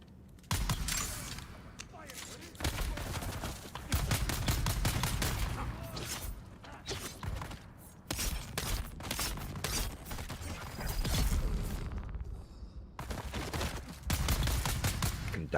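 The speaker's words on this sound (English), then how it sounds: "Shooting an innocent man, woman, soldier thing." Gunfire in the video game Dune: Awakening, with sustained bursts of rapid automatic shots and mechanical clatter, loud and dense, while someone talks over it.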